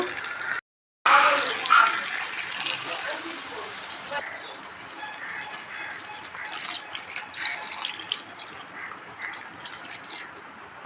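Water poured into a pot of browned mutton cooked with spices, a steady splashing gush that starts loud and close, then settles into a softer continuous trickle for most of the clip.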